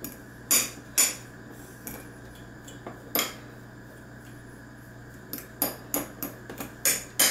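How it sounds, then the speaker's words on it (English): A fork mashes boiled egg yolks in a bowl for deviled eggs. It gives a series of sharp, close metal clinks and taps at an irregular pace, with quiet gaps between them. "what I do is mash these up a little bit with a fork"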